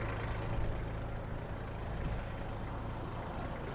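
An Iseki TG-27 Japanese mini tractor runs with its power take-off shaft being engaged, a steady close diesel rumble with a low droning hum and a brief clank near the end, no speech.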